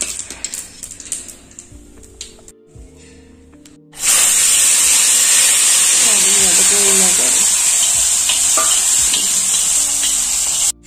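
A chhonk tempering for chickpeas hits the hot pan and bursts into a loud, sustained hiss and sizzle that runs close and steady for several seconds, after a quieter stretch of kitchen noise.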